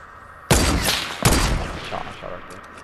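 Two sharp gunshots in the video game Fortnite, close and loud, each followed by a short ringing decay, with faint background game sound.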